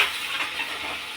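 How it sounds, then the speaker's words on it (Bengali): Potatoes and pointed gourd hit fried spice paste in a hot pan, giving a steady close sizzling hiss with faint stirring, no talking. "মশলাটা কষানো হয়ে গেছে, এবার আলু আর পটলগুলো ছেড়ে দিলাম"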